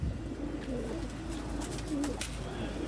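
Pigeons, including golden pigeons, cooing in a loft, low soft repeated coos close by under faint background noise.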